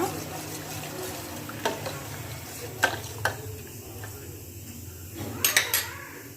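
A spoon scrapes and clinks against a metal pot of phool makhana kheer in scattered, light taps over a low kitchen background hum.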